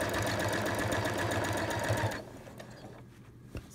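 Domestic sewing machine stitching continuous curves on a granny-square quilt block, a steady loud motor hum with rapid needle chatter that stops abruptly partway through, leaving a quieter tail with a few faint clicks.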